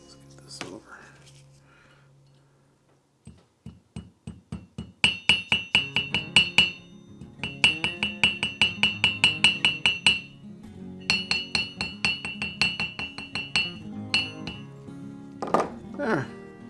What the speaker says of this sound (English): I have a little hammer